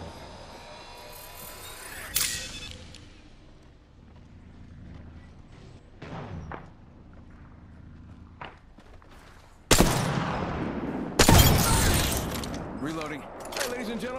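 Gunfire from the video game Armed and Dangerous: a few sharp shots and bursts burst out against a game soundscape of background effects, the heaviest bursts near the end, with someone talking at times.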